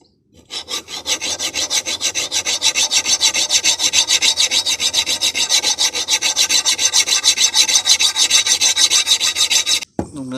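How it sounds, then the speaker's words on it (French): A hand file rasps rhythmically along the steel blade of a long-handled adze being sharpened, about forty quick even strokes close by, bright and scraping, ending abruptly with a clunk. "je le fais à la lime à main"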